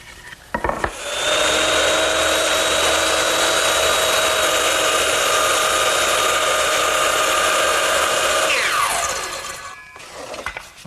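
A power saw makes a long crosscut through wood for a Shaker step stool: the motor whines up to speed, holds a loud steady buzzing cut for about seven seconds, then winds down to silence.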